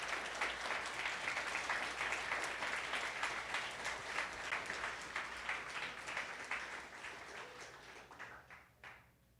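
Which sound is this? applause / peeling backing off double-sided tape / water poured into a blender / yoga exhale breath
applause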